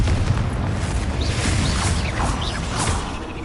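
Confringo fire spell explosions in the video game Hogwarts Legacy, loud booming blasts and whooshing combat effects layered over a dense continuous game soundscape, no talking.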